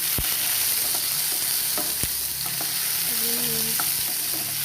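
Tomato and onion frying over low heat in a pan with popped mustard seeds. A close, steady sizzle runs throughout, with occasional utensil knocks and stirring scrapes and no voices.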